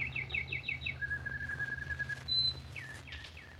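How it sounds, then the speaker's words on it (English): Birds sing outdoors in the countryside, a close, clear run of repeated chirps followed by a long thin whistle and then further swooping calls over a low steady hum. "can you hear the birds again?"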